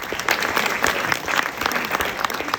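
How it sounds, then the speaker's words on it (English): A hall of fame induction audience applauds loudly and steadily, a dense wash of many hands clapping close and full throughout with no break. "So let's do a round of applause for this wonderful event tonight and all the sponsors."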